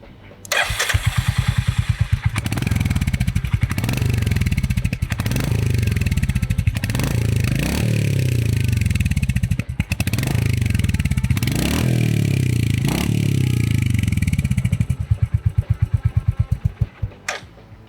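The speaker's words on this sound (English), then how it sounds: "That's fine, because when you hear it thump, it makes up for it." A Royal Enfield Hunter 350 motorcycle starts and idles with a deep, rhythmic exhaust thump, punctuated by repeated throttle blips that swell and fade, loud and close, then settles before shutting off.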